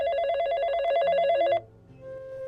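A telephone bell rings in a rapid trilling burst for about a second and a half, then stops abruptly, followed by quieter tonal electronic sounds, all close and clear with no voices.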